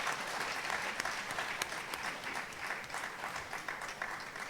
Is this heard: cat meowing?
no